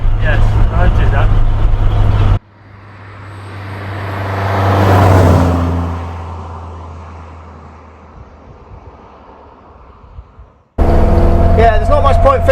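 A Morris Minor with a slightly slipping clutch drives along, its engine note swelling and then easing off under steady road and wind noise, with people talking before and after.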